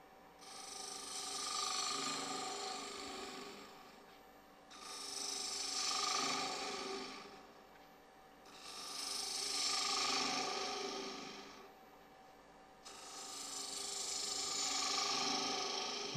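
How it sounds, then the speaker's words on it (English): A wood lathe spinning while a small spindle gouge cuts a wine glass base: four long, hissing cutting passes rise and fall in a slow rhythm, with a quieter motor hum between them, close and without talking. "I'll use my little spindle gouge for this"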